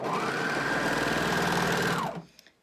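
A sewing machine runs a hem in one steady, fast burst of stitching for about two seconds, then stops abruptly, leaving a brief quiet tail with faint clicks.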